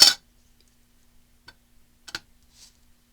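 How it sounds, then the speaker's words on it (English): A rubber stamp is pressed onto a sheet of paper for journaling, giving a few soft, short taps and light clicks scattered across otherwise quiet moments, with no talking. "So we're just going to stamp on another piece of paper."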